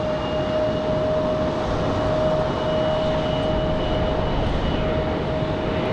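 An airplane departing Raleigh Durham airport, a loud, steady, broadband engine roar with a faint sustained whine, heard outdoors without talk.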